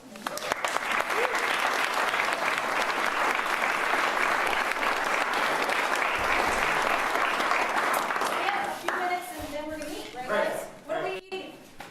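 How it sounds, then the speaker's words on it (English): Sustained audience applause at a local food hub gathering, a dense steady roar of many hands for around eight seconds before it fades and voices begin talking. "probably deserve a little round of applause"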